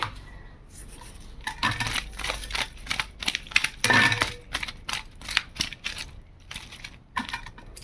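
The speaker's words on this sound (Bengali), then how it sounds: "মাছ কেটে ধুয়ে নিয়ে চলে এসেছি, এবারে লবণ মাখিয়ে রেখে দেই।" Cut, washed fish pieces are rubbed with salt by hand, giving a run of close, dry scraping and clattering strokes, with brief clicks against a dish, uneven in rhythm and with no talk.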